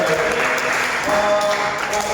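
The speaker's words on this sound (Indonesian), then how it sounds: "Kita beri tepuk tangan" Audience applause for a presenter at a micro-teaching session, a short, dense burst of clapping held evenly throughout.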